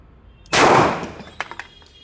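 A single loud gunshot from an HPM Hughes .45 ACP pistol cracks close by, with a long ringing tail, followed by a few small metallic clinks.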